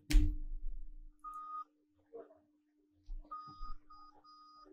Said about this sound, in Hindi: तो यहाँ पे लगभग 4 बार ये बीप कर रहा है।